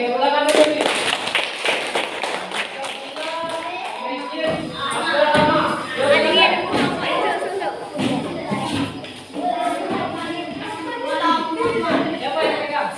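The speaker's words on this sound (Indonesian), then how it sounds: "tepuk tangan dulu nih" Children clapping hands together in a classroom, a dense burst of many small hands under teacher talk and classroom chatter, continuing in waves for several seconds.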